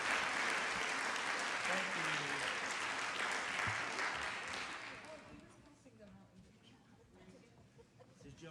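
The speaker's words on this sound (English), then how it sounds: "One more round of applause." Audience applause for kids at a city council meeting, loud sustained clapping that fades out after about five seconds into a quiet room with a brief spoken thanks.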